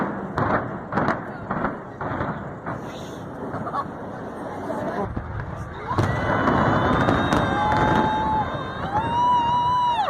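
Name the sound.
skyscraper demolition explosions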